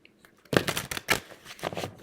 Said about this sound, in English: Give these a good ruffle shuffle.